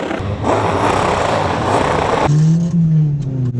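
A Mini street car accelerates hard on a race track, the engine roaring loud and close under full throttle, then a rising whine as revs climb after a gear change, with no talk.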